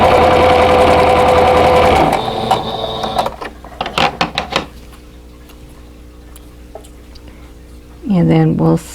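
A sewing machine stitching quilt fabric pieces runs loud and steady for about two seconds, followed by clicking handling sounds, then another short whirring burst near the end.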